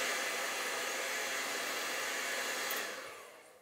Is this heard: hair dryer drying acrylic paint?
yes